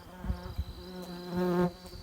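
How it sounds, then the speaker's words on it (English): Steady insect buzzing from several wasps around beehives, droning close by with pitch wavering and swelling louder toward the end, plus a few soft thumps. "Fucking wasps."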